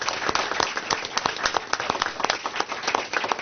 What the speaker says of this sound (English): Big round of applause for Sheila.